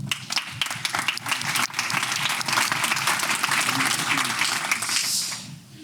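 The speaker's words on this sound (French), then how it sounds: "vous méritez vous aussi un petit tonnerre d'applaudissements" Audience at a local marketing conference bursts into a sustained round of applause, dense clapping filling the room for several seconds before tapering off.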